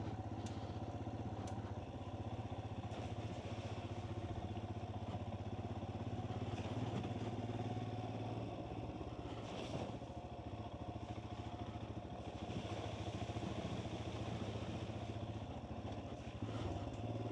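A motorcycle engine drones steadily throughout while riding through puddles, a low continuous rumble with slight variations in revs and some clattering, heard without talk, recorded through a helmet-mounted microphone.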